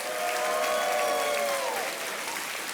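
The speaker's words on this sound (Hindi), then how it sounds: "एक बार फिर तालियों के साथ इनका हम अभिनंदन करना चाहेंगे" A studio audience on the KBC game show applauds a contestant, with loud, dense clapping that holds steady over a bright musical sting that rises and then fades.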